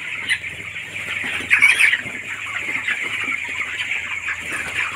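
Young chicks in a poultry shed on day 21 of rearing keep up a busy chorus of high peeping and soft clucks, with a brief louder flurry near the middle.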